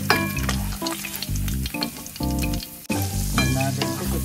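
Sausage frying in a pan gives a close, continuous sizzle for about four seconds over a steady tonal background, with a brief dip near the end.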